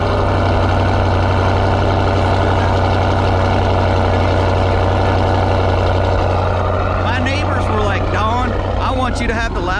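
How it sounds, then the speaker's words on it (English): A loud, rumbling cammed 5.7 V8 engine in a Dodge Challenger R/T idles steadily after a cold start with a deep, throaty drone, while voices chatter over it toward the end. "this cold start, man. I just hate this cold start. It's so freaking loud."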